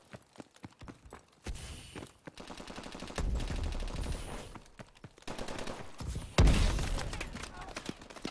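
Video game gunfire rattles in rapid automatic bursts and scattered single shots, loud and overlapping, with heavier volleys in the middle and a big blast near the end.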